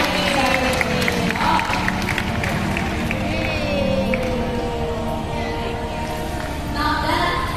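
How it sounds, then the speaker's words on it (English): A zoo animal-show audience claps and cheers for two participants at Singapore Zoo, a dense, steady crowd roar of applause with scattered voices and whoops throughout. "let's give them one more big round of applause for your participation"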